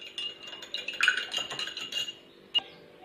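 A metal spoon stirring a spoonful of vinegar into milk in a steel glass for cupcake batter, with quick close clinks and scrapes against the rim and a final sharp tap.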